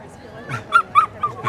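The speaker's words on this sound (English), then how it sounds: "Look at this dog." A dog on a Greenwich Village street in New York gives a few short yips and whimpers, close and fairly loud, with street ambience underneath.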